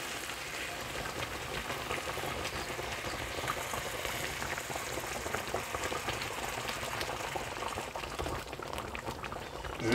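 Hot water from a kettle pours into a tajine pot of chicken and olives and settles into a steady, fairly quiet bubbling and splashing boil that runs without pause.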